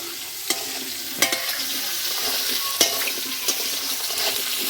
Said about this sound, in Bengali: তো আলুগুলো আমি একটু লাল লাল করে ভেজে নেব।